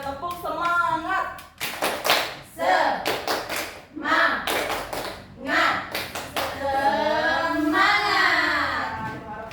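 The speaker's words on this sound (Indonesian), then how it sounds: "1, 2, 3, tepuk semangat" A class performs the tepuk semangat clapping routine, with bursts of rhythmic group claps and hand patterns interleaved with children chanting along, loud and close, running to a final drawn-out vocal flourish.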